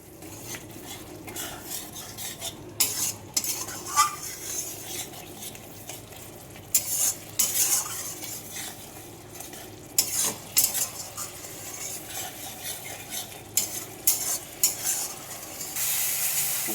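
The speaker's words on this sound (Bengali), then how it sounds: "মশলাটাকে ভালো করে কষে নেব। ভালো করে কষতে হবে যতক্ষণ না মশলা থেকে তেল ছাড়ে।" Spice paste mixed with garlic paste fries and gets stirred in a pan for a mutton and soybean curry, giving a steady close sizzle broken by repeated scraping and clinking strokes of a spoon against the pan, with no talking.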